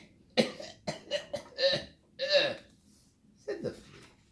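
A voice imitates coughing, a series of short, sharp coughs in an uneven rhythm, close and fairly loud with pauses between.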